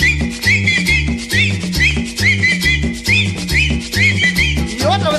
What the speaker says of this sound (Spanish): y ahora chiflando todo